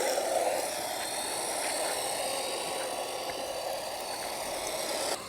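An ARRMA Fury Mega 550 RC short course truck drives with a steady electric motor whine and a constant, moderately loud hum that stops abruptly near the end.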